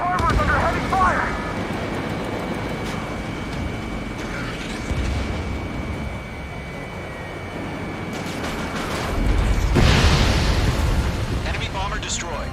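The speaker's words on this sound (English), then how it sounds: "Enemy bomber destroyed." An enemy bomber blowing up in the jet combat game Ace Combat 7, a deep rumbling blast swelling near the end amid continuous explosions, engine roar and radio chatter.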